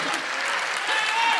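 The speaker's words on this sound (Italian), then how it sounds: "Prendi l'applauso, sì, è tuo" Studio audience applauding during an Italian accordion music TV show, a dense, steady wash of clapping that swells slightly toward the end, close and filling the room.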